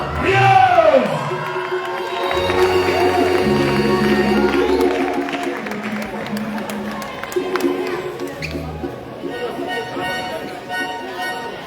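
Concert crowd at a gospel show at the Palais de la Culture cheers and whoops loudly for the performers, a dense roar of voices with shouts rising over it, steady throughout.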